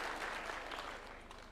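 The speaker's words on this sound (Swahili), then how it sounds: "Tuwapigie makofi." A brief burst of faint, steady clapping rises from the seated members at a UDA National Governing Council meeting at State House, heard at a distance as an even, hissing wash of hands.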